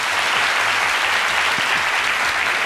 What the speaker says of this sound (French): Aloussène Sidibé, que je demande d'applaudir également